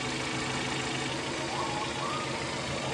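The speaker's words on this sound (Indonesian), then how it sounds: "ternyata di sini mesin tetap hidup, hanya ada hentakan sedikit di awal waktu pertama kita menghidupkan" A car engine with a faulty camshaft position (CMP) sensor runs at idle, a steady, close mechanical rumble with faint irregular knocking throughout.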